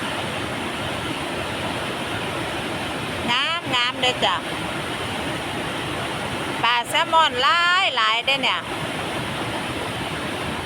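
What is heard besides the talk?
waterfall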